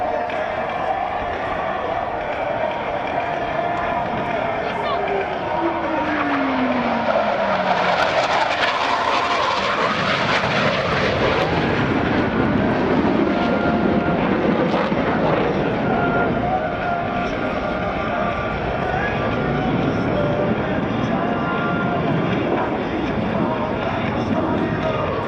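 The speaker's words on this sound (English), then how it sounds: "they'll roll their aircraft to 90 degrees angle of bank and push forward on the stick as they perform the opposing knife edge" US Navy Blue Angels jets fly an opposing knife edge pass at the 2016 NAS Oceana Airshow, a continuous loud jet roar swelling to a peak as the aircraft pass, with a falling engine tone and crowd noise, under an announcer's voice.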